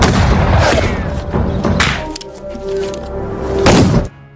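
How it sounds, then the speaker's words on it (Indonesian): Film shootout gunfire in an Australian cowboy movie: a few loud, sharp booming shots with ringing tails, spaced irregularly amid a dense action soundtrack. "terjadilah baku tembak di sana"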